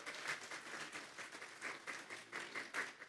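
A congregation at a church service claps steadily in a dense, sustained burst of applause for the Lord, with rhythmic peaks of clapping across the whole stretch and no talk over it.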